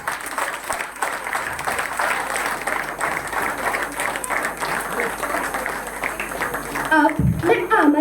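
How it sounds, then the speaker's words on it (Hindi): Audience applause at a school Independence Day dance drama, a dense, steady clapping crowd filling the hall with a voice speaking over it near the end. "जोरदार तालियों से इनका उत्साहवर्धन कीजिए।"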